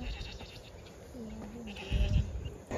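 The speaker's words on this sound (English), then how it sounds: "Yeah, see, that's a goat." Loose goats on a farm give a couple of short, wavering bleats at moderate distance over low, rumbling background noise.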